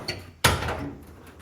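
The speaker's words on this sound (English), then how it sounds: "We'll open the door here." The door of a 1957 Chevy pickup truck opens with one sharp metallic clunk as the latch releases, followed by a brief fading rattle; a faint small click comes just before.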